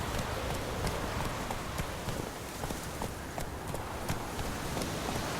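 Hooves of Roach, the horse in The Witcher 3, clatter in a steady, continuous clip-clop rhythm at moderate distance, with a faint patter like rain underneath and no speech.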